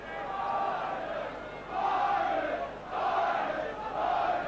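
Crowd in the South stand chanting at a cold 1993 Challenge Cup rugby league match between Leeds and Rochdale, a steady sung roar rising and falling in repeated phrases from a modest, distant crowd.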